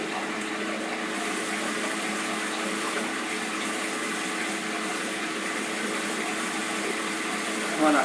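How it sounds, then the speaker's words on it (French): Tap water runs into a bathroom washbasin with a freshly cleaned, reassembled siphon, a constant even rush of flow held steady the whole time, close and unbroken. "nous allons refaire un essai avec l'arrivée d'eau pour voir s'il n'y a pas de fuite"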